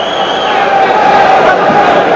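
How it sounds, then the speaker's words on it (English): A boxing crowd at a 1979 pro fight chanting for Chris Clarke, a loud, steady roar of massed voices that carries on without a break. "The crowd going nuts here for a few minutes, chanting, "Go, Clarke, go.""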